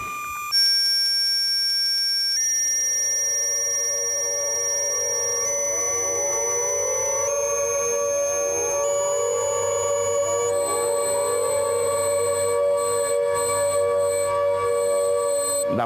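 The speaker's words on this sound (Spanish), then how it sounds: "da mucha caña el sonido de 8 bits." 8-bit chiptune rendition of a song, with bright square-wave tones and repeated rising, alarm-like sweeps over a steady, loud synthetic backing throughout.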